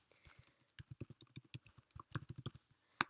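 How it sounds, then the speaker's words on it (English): Someone types a name on a computer keyboard, a close, quick burst of crisp irregular key clicks lasting a few seconds with brief pauses, alone and without speech. "I'll type in my name, like that."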